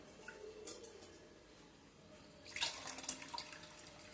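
Water is drained off cooked rice for tomato rice, beginning with faint trickles and clinks, then a louder, splashy gush of pouring that lasts about a second, close by.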